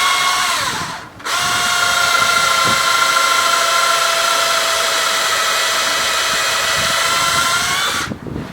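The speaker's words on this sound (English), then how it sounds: "I'm going to drill pocket hole jigs" A power drill bores pocket holes through a Kreg jig, whining loud and close in one long steady run after a short opening burst and a brief pause, then winding down.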